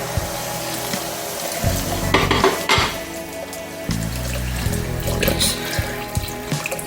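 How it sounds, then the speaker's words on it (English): Water poured into a pot of Jamaican sardine rice mixture, a steady splashing and running pour with sizzling and stirring clatter throughout, fairly loud and close, no talk. "Yes, I'm going to add water into the mixture."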